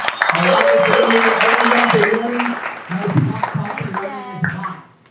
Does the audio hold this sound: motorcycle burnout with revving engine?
no